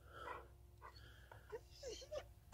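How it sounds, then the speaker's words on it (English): A dog with a hacking cough gives a few short, faint, raspy bursts and wheezing breaths, close by and quiet. "It's almost like he's coughing out food."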